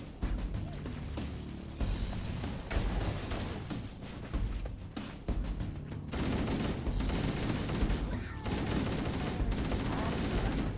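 Gunfire in Halo: Combat Evolved, with dense, continuous rapid firing and automatic bursts going on throughout, broken by brief pauses and mixed with clattering impacts, while a voice talks faintly underneath.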